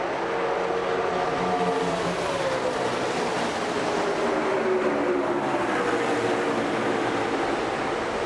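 NASCAR stock cars race down the front stretch at Darlington under the lights after midnight. Their engines make a loud, continuous roar that barely changes level and fills the whole stretch, with no voices over it.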